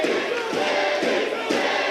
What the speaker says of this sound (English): I hear a little Cedric, I hear a little Eddie, both in those chants